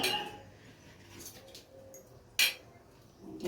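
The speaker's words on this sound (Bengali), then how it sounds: "চলে এলাম দুপুরে ভাত বাড়তে" Dishes clink while rice and side dishes are served for lunch, a few sharp isolated knocks of crockery against a quiet indoor background.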